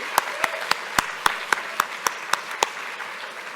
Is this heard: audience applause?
yes